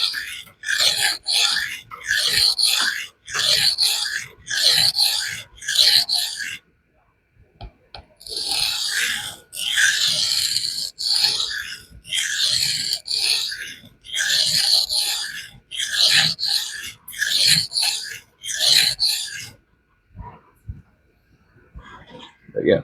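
An EDC knife is stroked over scary sharp abrasive paper in rhythmic bursts of gritty, hissing scrapes, a few strokes per burst, with short pauses between groups; close and fairly loud.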